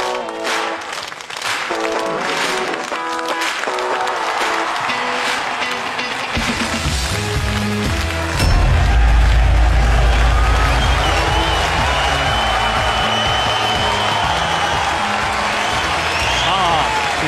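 Studio audience applauds to welcome the host of a Chinese comedy talk show, a dense crowd of clapping that swells louder midway and continues steadily with some music beneath.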